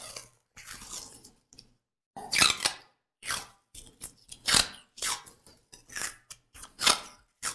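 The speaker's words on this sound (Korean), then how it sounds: "그 다음에 종이 테이프로 감습니다." Paper tape being pulled off the roll and wrapped several turns around a small wood block fixed to a hand plane's chipbreaker, a series of short crackling tears and rips with brief pauses between them, close up, no talking.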